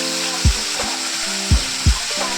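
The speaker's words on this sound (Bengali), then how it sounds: "কড়াইটা চাপিয়ে দেওয়ার পর আমি মাছগুলো ভেজে নেবো।" Fish pieces fry in hot oil in a kadai wok, giving a loud, steady sizzle throughout, broken by three or four dull clunks of a utensil against the pan.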